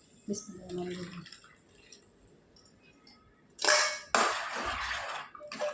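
Water is poured from a vessel into a pan of chole to rinse in the leftover ground masala, a close, full splashing pour of a couple of seconds after quieter kitchen handling sounds.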